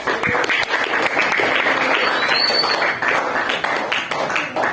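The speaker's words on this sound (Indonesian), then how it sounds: "Tepuk tangan untuk Nabil dan Mubarak" Students in a classroom clap for two classmates who answered correctly, a dense steady patter of hands filling the room for several seconds with some voices mixed in.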